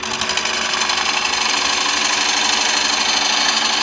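A wood-turning bowl gouge chatters as it bounces against a spinning wooden bowl's interior, producing a steady, dense rattling buzz at close range that holds continuously without pause and with no talking.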